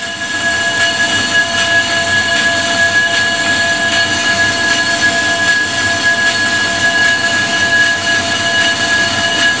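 A Grizzly G0776 lathe turns a cast Ford 460 flywheel at a slow 70 RPM, giving a loud, steady machine roar with a constant high whine and no pauses, running alone without talk.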